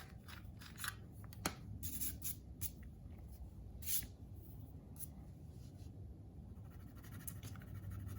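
Quiet scratchy strokes of a watercolor colored pencil on paper, repeated in short bursts with a few sharper taps, close and steady with no talking.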